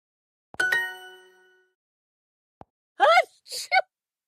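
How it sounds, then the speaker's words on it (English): A person sneezes near the end, in a short burst of sharp sneezes that follows a chime and a quiet click earlier on. "I can't stop sneezing."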